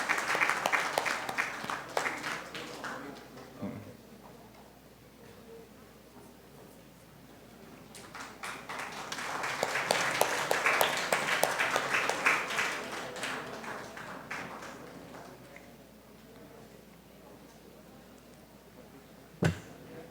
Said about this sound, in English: Let's all give them a round of applause, ladies and gentlemen.